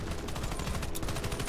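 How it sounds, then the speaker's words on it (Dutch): Gunfire from a sniper rifle in the online shooter Warface during co-op play: a quiet, continuous stretch of rapid, repeated shot-like bursts over a rumbling game soundscape, with no talk. "Dit is echt een beest van een sniper."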